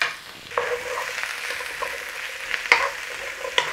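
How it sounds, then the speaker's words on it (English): Peppers and onions stir-fry in a pan with garlic and ginger for black pepper chicken, a steady close sizzle broken by a few sharp clacks of the utensil against the pan. "Nice, steady stir fry."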